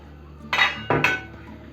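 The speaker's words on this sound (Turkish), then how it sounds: "Tenceremizi ocağın üstüne aldık." A cooking pot of stuffed peppers in olive oil is set onto a stovetop with two sharp metallic clanks close by, followed by quiet.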